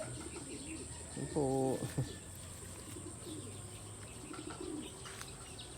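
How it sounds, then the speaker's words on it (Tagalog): Pigeons coo in a short clear burst near the middle, with softer chirps and faint wing sounds around it, over a quiet outdoor background with a steady high hum and a brief spoken phrase. "Naghihintay sa pagbalik ng kanyang kalapati."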